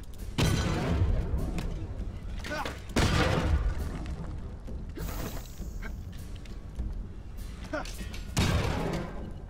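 A moving turret firing in the action game Apotheon, in the forge realm of Hephaestus: several loud mechanical bursts with creaking, ratcheting clanks at spaced intervals, with a player's voice talking between them.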